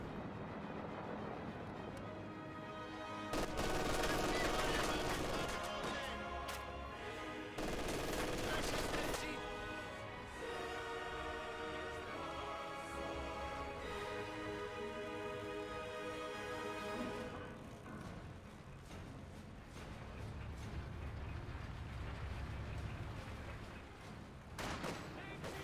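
Tanks and a ZiS gun fire in Company of Heroes 2, with heavy booming blasts and bursts of gunfire that swell loudly in places, mixed with battle clatter and a faint voice.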